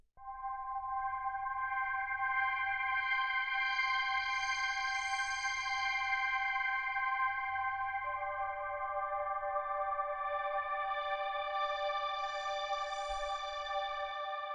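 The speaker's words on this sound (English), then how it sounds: "The next sound we have here is this FM string sort of sound" An FM string synth holds sustained, atmospheric droning chords, shifting to a new chord about halfway through, with a faint low rumble beneath and no voices.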